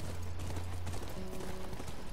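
Horse hooves clip-clop in The Last of Us, a steady run of hoof beats under a constant game soundscape with sustained low tones and music.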